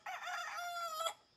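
A single rooster lets out one loud, close crow lasting about a second, alone, with no voices.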